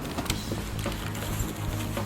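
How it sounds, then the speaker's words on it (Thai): Heavy rain in the Arena Breakout video game, a dense, loud, continuous patter with scattered sharper ticks and no speech. "ฝนตกหนักนะทุกคนตรงนี้ระวัง"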